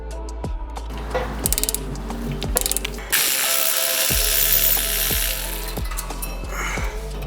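A ratchet wrench works on the front brake caliper brackets of a 2012 Honda Civic, giving rapid pawl clicking in bursts, then a steady mechanical whirring stretch, then more rhythmic clicks, close and clear with no talk.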